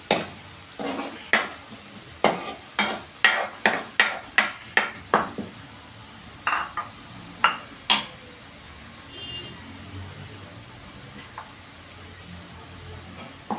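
Ginger garlic paste frying for kadhi pakora, a spoon clacking repeatedly against the pan in quick stirring strikes over a soft background sizzle, then trailing off to a quieter simmer.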